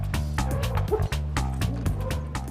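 Dogs at a dog daycare give a quick string of repeated barks and yips. The barks are close and come in a steady rhythm.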